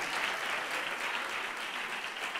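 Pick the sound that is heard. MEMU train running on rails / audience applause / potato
audience applause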